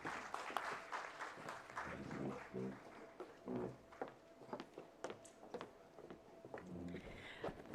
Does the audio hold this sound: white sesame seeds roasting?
no